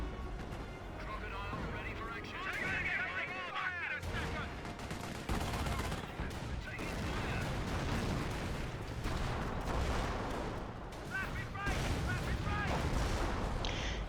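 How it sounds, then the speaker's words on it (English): Dense gunfire and artillery bursts in the World War II strategy game Company of Heroes, continuous and loud throughout, with heavy low booms mixed with rapid crackling shots and a voice talking over the battle. "He does fire a lot of shots."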